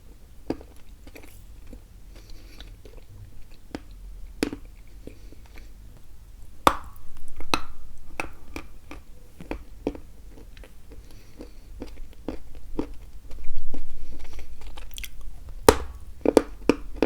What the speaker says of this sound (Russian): Она не так классно хрустит,